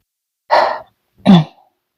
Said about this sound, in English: Finally, I clear my throat.